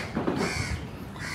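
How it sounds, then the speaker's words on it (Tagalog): Crows caw repeatedly in a Singapore street in the morning, harsh calls rising over steady city background noise at moderate distance. "naririnig nyo ba? Mga uwak."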